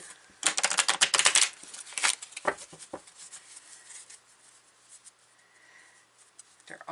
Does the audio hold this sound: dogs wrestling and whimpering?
no